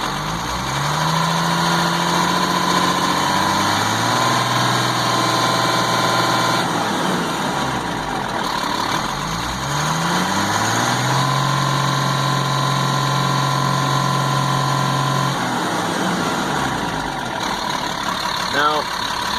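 A 1998 GMC C8500 truck's diesel engine, a 3116E suspected of a bad ECM and a high-pressure oil fault, runs steadily and loud, rising in pitch twice as it is revved up at held throttle, then falling back. A voice talks over it.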